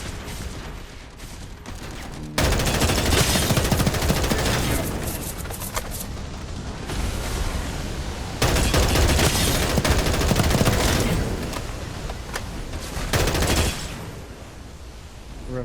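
Sustained bursts of automatic gunfire from Farlight 84, loud and dense in long volleys with brief quieter lulls between bursts, heavy booming impacts mixed in, no talking.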